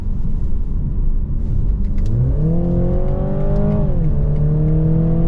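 A 2022 BMW Z4 sDrive 2.0 convertible drives along a bumpy road, its engine droning steadily and then rising in pitch as it accelerates through gears, loud and close inside the cabin.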